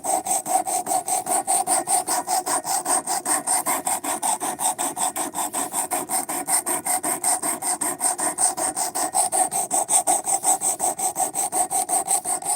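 A knife blade with a poor grind is sharpened in quick, regular rasping strokes, dozens of close, loud scrapes in a steady rhythm with no talking.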